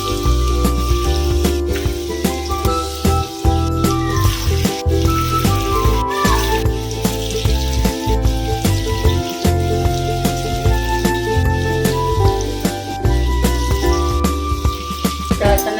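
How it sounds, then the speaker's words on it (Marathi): Colocasia leaf rolls (aluwadi) fry in plenty of hot oil over a lowered gas flame, making a steady crackling sizzle with scattered pops. The sizzle continues for the whole stretch, and faint tonal background sounds run beneath it. "मी फ्राय करून घेते तेल तर तेल गरम झाले"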